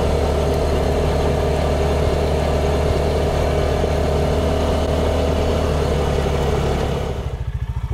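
A Bighorn Explorer 400 EFI UTV engine drones steadily during a break-in drive in high range, a loud, constant mid-pitched hum with a faint putter, dropping to a rough idle putt near the end.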